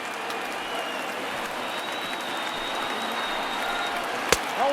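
A baseball crowd of over 39,000 stands and applauds, a steady wash of clapping and cheering from a large stadium audience with one sharp knock near the end.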